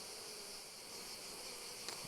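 Honey bees buzz around an opened hive during a hive inspection, a steady, dense, close humming swarm sound with no talking.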